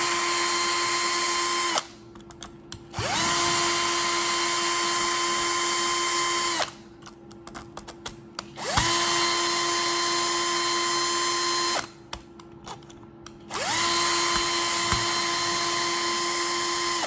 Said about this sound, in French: On enlève les 4 vis qui sont là.